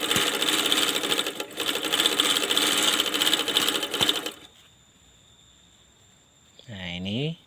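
An overlock sewing machine stitches in a loud, rapid, continuous whir for about four seconds, then stops; a voice speaks briefly afterward.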